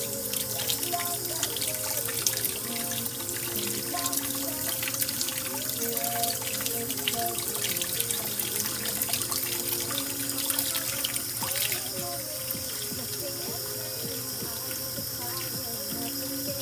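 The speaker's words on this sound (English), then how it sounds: "Now to wash the eggs." Tap water runs in a sink as eggs are washed by hand, a steady close splashing stream with soft trickles and clinks throughout, and faint music playing underneath.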